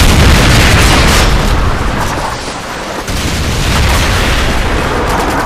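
Heavy AGM missile strike explosions from Call of Duty Modern Warfare 3, a loud continuous rumble of booms and blasts filling the whole stretch with a brief dip midway.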